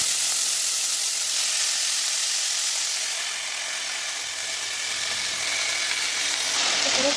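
Washed leafy greens drop into hot oil with dried red chillies in a home kitchen pan, a loud, steady sizzle and hiss that holds for several seconds and softens briefly mid-way before rising again.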